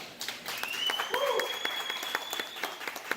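Steady audience applause fills a cigar lounge in Teaneck, New Jersey, during a cigar festival, a dense wash of clapping with a faint tonal whistle or cheer riding over it.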